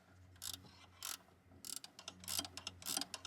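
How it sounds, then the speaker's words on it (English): A ratchet wrench clicks in short quick bursts while turning a bolt during brake work on a 1998 GMC K3500 dually, faint and close, with several separate ratcheting strokes and no talking. "Ratchet wrenches are the best."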